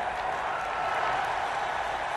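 Steady roar of a stadium crowd applauding and cheering at a Georgia vs TCU college football game, dense and continuous throughout without any clear voice on top.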